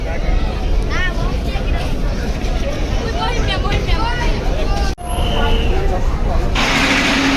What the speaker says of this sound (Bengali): নটা বেজে চব্বিশ মিনিট যাচ্ছে ব্যাক গিয়ার দিয়ে লঞ্চ